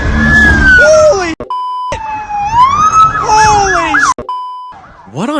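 Loud wailing and yelping police car sirens sweep up and down close by during a high-speed chase, with brief pauses and engine noise underneath.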